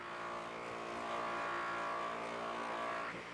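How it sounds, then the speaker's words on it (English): A motorized buffing wheel polishes a Plexiglas edge with compound under medium pressure, a steady loud whirring drone that holds evenly throughout, close and with no talking. "I'm using about medium pressure and letting the wheel and the compound do the work."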